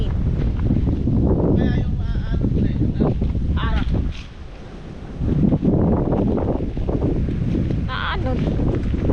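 Strong wind at the seashore roars steadily into the microphone with a low, buffeting rush while people talk over it.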